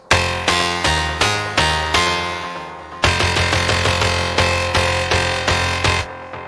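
Repeating synth bass preset called Running from First Bass Labs, played dry with no automation: loud, even pulsing chords with a steady rhythmic pluck pattern, alone with no voice over it.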